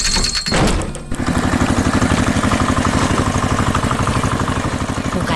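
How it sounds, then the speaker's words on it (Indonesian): A red tractor's engine runs with a steady, rapid mechanical chug that settles into a constant loud drone after a brief thunk, close and continuous with no talking. "Wah, lihat traktor merah itu datang."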